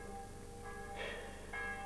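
A church bell rings for vespers in a stage production of Musset's Les Caprices de Marianne. Faint tolls sound in the distance under a steady background hum, with two or three strikes in quick succession.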